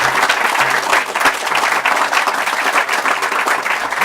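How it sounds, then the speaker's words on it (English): A lecture audience gives a loud, sustained round of applause for a visiting father and son, with many hands clapping steadily and densely throughout. "Let's give them a round of applause."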